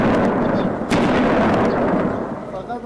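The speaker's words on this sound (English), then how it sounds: "Heavy gunfire and explosions echoed through an upscale neighborhood in Kabul late Tuesday night" Heavy gunfire and explosions echo through an upscale neighborhood of Kabul at night, a dense continuous roar of shots with one sharp loud burst near the middle, sustained and reverberant throughout.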